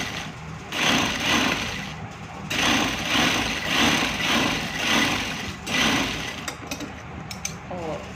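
Sewing machine stitching the sleeves of a men's kurta, a close continuous motor hum and needle chatter that rises and falls in several short runs, with faint handling noise near the end.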